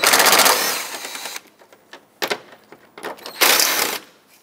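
A 10mm bolt is loosened from the air intake of a 2014-2021 Mazda 6, with a burst of rapid, sewing-machine-like ratcheting at the start, then scattered clicks and metallic taps, and a second loud ratcheting burst near the end.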